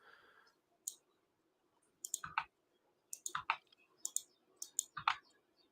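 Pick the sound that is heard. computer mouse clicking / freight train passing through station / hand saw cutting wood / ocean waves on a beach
computer mouse clicking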